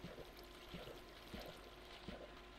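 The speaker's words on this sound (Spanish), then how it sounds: "suenan más cosas chapoteando en el agua" In the Minecraft video game, things splash in water, giving faint, soft splashes and trickles that repeat at a loose, steady pace over a quiet watery background.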